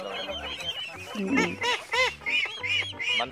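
Brown and black Itik Pinas ducks, one to two months old, on a farm: a close, noisy chorus of overlapping honking quacks in quick bursts, with a little background voice mixed in.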